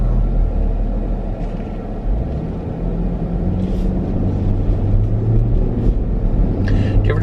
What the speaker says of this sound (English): Do you ever just like the sounds that a car makes?